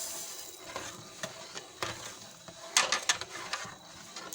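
A spoon moves slowly through mango custard in a pot, soft scraping and stirring strokes with scattered clinks against the metal, quiet and close with no talk.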